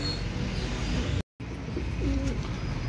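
Pigeons or doves gathered at a shaded drinking-water spot in hot weather, soft cooing and bird calls over steady outdoor background, with a brief dropout midway.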